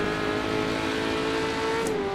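A race car engine in a VR sim racing game drones at steady high revs, loud and continuous with a sustained tonal whine throughout, no talk over it.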